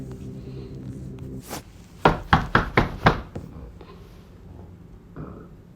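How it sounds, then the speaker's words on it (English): Five quick knocks on a wooden door, close and sharp in an even rhythm, preceded by a faint tap and a low hum, then quiet. "Let's knock."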